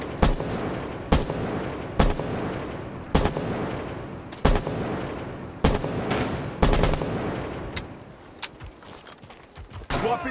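Gunfire in Rainbow Six Siege on the Oregon map in a team deathmatch match. Loud, close shots and short bursts repeat at fairly regular intervals over a dense background of game noise.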